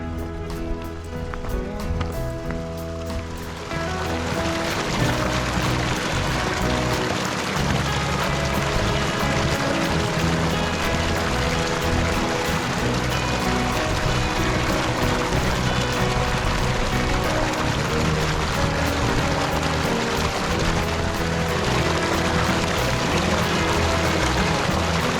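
Water is collected from a small Dartmoor moorland stream. After a few quiet seconds, a close, loud, continuous rush of flowing and splashing water begins and carries on steadily to the end.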